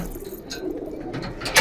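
Soft, low cooing of Kaldom pigeons murmurs steadily through the clip at a large pigeon farm in Bangladesh, with a few faint higher chirps and rustles over a quiet background.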